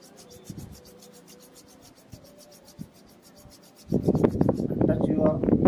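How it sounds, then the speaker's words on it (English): Two hands rub together during a physical exercise session, first as faint brushing, then a loud, close, rough friction that grows steady and continuous in the second half. "rub your hands"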